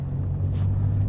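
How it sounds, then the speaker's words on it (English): A cheap scrap car with a blowing exhaust drives along, its engine producing a loud, steady low rumble close to the microphone with no other sounds. "that exhaust is definitely going to be a failure on the MOT because it is blowing quite loud"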